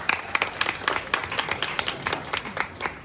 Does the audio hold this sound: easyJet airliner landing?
no